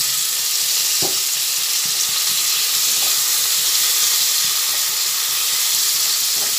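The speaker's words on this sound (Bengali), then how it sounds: "কিছুক্ষণ ভাজা হবে।" Chopped tomatoes frying in hot oil for eggplant korma sizzle loudly and steadily, a close, dense hiss with a few faint utensil taps as the pan is stirred.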